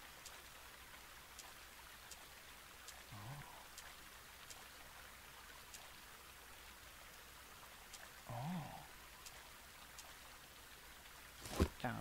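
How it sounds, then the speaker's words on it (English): Waterfall in the video game Rake, a steady broadband rush of falling water heard alone at a moderate, even level, with a few brief louder splashes and clicks near the end. "There's always a cave behind waterfalls."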